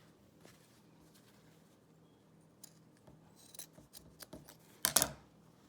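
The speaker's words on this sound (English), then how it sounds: "Now we're going to trim the corners so that when we open the pillowcase up, it will have nice sharp corners." Scissors trim the fabric corners of a sewn Christmas pillow cover. A quiet stretch of faint rustling leads into several close, crisp snips that grow louder toward the end.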